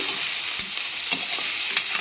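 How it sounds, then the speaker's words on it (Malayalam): Chopped onion sizzles steadily in a hot pan of oil for a potato brown stew, a bright, constant frying hiss with faint stirring scrapes and no talk. "ഇനി ഇതിലേക്ക് ഈ മുറിച്ച് വെച്ച ഉള്ളി ഇട്ട് കൊടുക്കുക"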